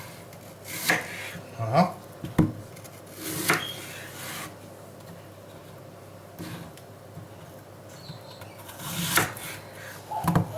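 Already peeled and cored apples are cut into quarters for a tarte tatin, giving a few distinct knife cuts against a board spaced irregularly, with a brief spoken word.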